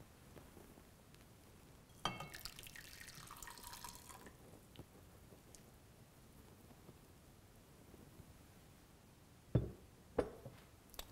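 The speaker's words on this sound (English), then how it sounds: "we add our water." Water poured into a pot on a flame while making ginger tea, a short splashing pour of about two seconds, followed by quiet and a few sharp drips or taps near the end.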